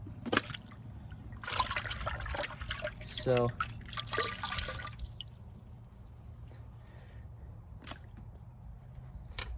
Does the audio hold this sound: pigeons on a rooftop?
no